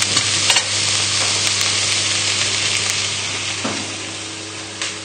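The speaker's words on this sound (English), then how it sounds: "Just give it all a stir" Vegetables for a beef casserole fry in a pan with a loud, constant sizzle while a spoon stirs them, giving a few clacks and scrapes close by. Nobody speaks.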